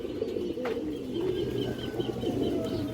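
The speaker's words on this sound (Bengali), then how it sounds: "একদম পুরো বিরাটের একটা লাল চুল্লি মাদি কৌতর" A red chulli female pigeon coos in a steady, low, rolling warble, close and continuous, with a faint chirp or two in the background and no talking.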